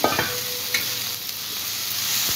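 Crushed dried bombil (Bombay duck) sautés in a hot pan, giving a steady close sizzle with a couple of brief scraping stirs at the start.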